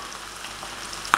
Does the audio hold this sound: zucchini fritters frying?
yes